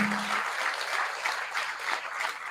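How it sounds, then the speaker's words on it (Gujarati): A crowd applauds steadily in welcome at a religious discourse gathering in Mumbai, a dense wash of clapping that holds at an even loudness throughout. "એ સ્વાગત માટે તાળી વગાડો"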